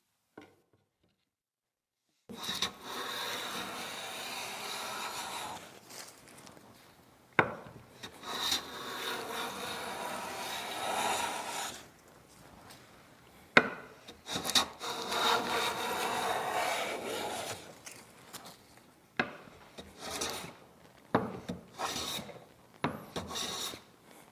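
A hand plane shaves wood along the grain for a custom coat rack, giving repeated rasping strokes of varying length separated by short pauses, close and alone with no talk.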